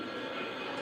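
A toy train runs along its track with a steady, even rolling rumble and rattle, close and continuous throughout the short stretch.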